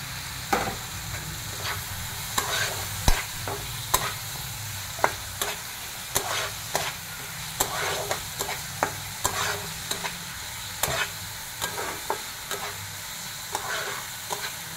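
Chopped tomatoes sizzle steadily in a hot pan for a mushroom curry, with a spoon scraping and stirring in regular, sharp strokes over a continuous frying hiss; no talking.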